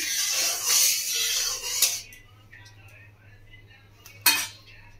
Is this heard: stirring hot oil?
yes